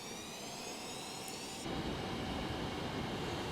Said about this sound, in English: And we are taxiing up.